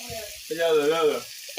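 Water is poured onto spices frying in a pan for a vegetable curry, setting off a brief, loud burst of close sizzling and hissing that swells and then settles.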